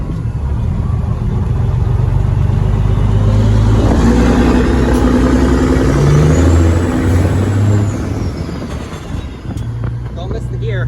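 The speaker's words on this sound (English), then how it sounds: "We're gonna do a burnout." A Cat 3406B diesel engine in a truck revving hard for a burnout, a loud, deep continuous roar rising and holding with people talking over it.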